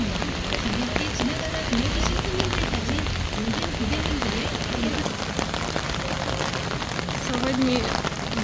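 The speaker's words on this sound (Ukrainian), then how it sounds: "Сьогодні дуже сильний дощ" Heavy rain pours steadily and loudly in Korea, a dense continuous patter filling the whole stretch, with faint voices murmuring underneath.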